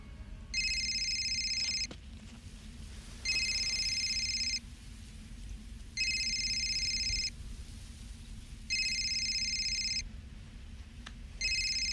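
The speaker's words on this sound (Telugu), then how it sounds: "ఫోన్ ఎత్తి కూడా మాట్లాడవు" A mobile phone ringtone goes unanswered, sounding in five evenly spaced, fairly faint bursts of about a second each over a steady background hum.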